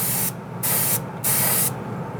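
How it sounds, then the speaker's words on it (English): Three short bursts of aerosol spray hiss loudly and close up as a protective sealer coat goes onto a painted model, each burst about a third of a second long with brief pauses between. "We have our model here, so we're ready to spray."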